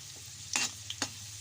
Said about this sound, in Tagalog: Kapag ipiprito muna natin ang carrots at patatas.